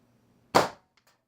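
A single .25 caliber air gun shot firing a 28.6 grain Skenko metal-tip pellet into a tablet, a sharp sudden crack with a short decay, followed by faint ticks of debris.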